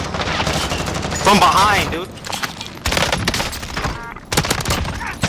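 Rapid bursts of automatic gunfire in a battle royale shooter, loud and close, coming in clustered volleys separated by short gaps, with a voice briefly speaking over the shooting.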